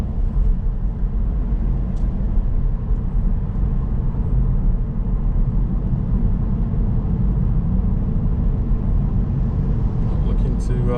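A car cruising at a steady 40 mph along a road near a roundabout in Salisbury gives a continuous low road rumble and engine drone from inside the cabin, with a voice talking over it.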